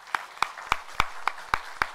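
A church congregation at a Sunday worship service claps in unison, seven crisp, evenly spaced claps in a steady rhythm.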